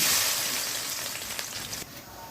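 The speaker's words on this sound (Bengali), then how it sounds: "তেলে গরম হয়েছে এখন আমি পেঁয়াজ দিলেই" Onions dropped into hot oil in a kadai while cooking shrimp with bottle gourd, giving a loud, steady sizzle and crackle that gradually eases before fading sharply near the end.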